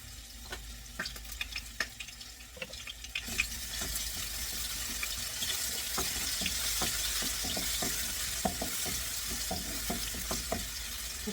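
Garlic frying in a pan for Bisaya-style pinakbet, a steady close sizzle with scattered crackles and utensil clinks, rising fuller and louder after a few seconds and holding on without talk.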